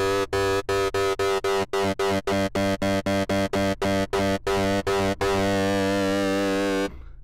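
A synthesizer with two oscillators, each on its own volume envelope, plays a fast run of short, evenly gated notes, about sixteen sharp pulses, then settles into one long sustained tone that cuts off abruptly.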